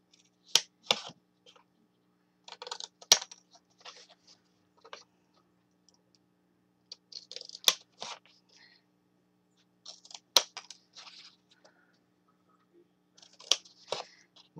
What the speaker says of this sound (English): you're going to just cut off these little 1-inch squares